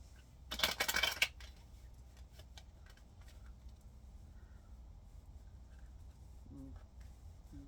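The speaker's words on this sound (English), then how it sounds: "Let me give this a couple shuffles." A tarot card deck being shuffled, a brief dense burst of riffling cards near the start, then a quiet room with soft faint handling noises.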